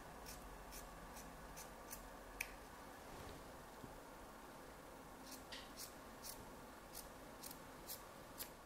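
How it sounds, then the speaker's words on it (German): Scissors snip a small curve into fleece fabric, a steady series of quiet, crisp cuts at a regular rhythm over a low background hum. "Hier schneide ich noch eine kleine Rundung ein."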